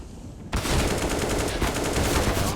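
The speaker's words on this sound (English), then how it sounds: "As Reck spams all of his ammo down range here" An AK rifle in Counter-Strike on the Overpass map fires a sustained burst, spraying rapid automatic shots that start abruptly and continue loud and dense to the end.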